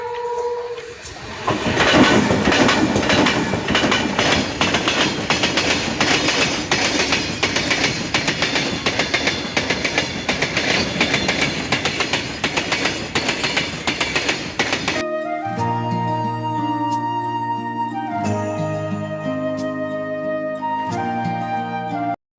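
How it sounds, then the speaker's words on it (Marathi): A train rumbles past on the track with a loud, continuous clickety-clack for several seconds, then music takes over at the end. "बघून घ्या मागून ट्रेन जाणार आहे."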